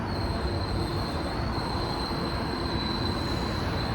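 Loud, sustained metallic screech of GO commuter train wheels on the Lakeshore East line in Toronto, a steady high-pitched squeal over continuous rolling rumble, close by.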